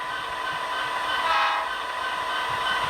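A sustained, loud horn blast from the sound decoder of an HO scale Athearn Genesis SD-70 model locomotive, steady for about three seconds and swelling slightly in the middle, with no talking over it.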